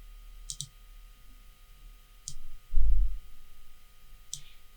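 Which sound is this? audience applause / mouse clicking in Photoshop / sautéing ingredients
mouse clicking in Photoshop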